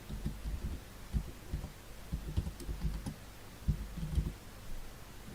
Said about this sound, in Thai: เดี๋ยวจะพิมพ์ลงไปนะครับ เป็นภาษาไทยนะครับ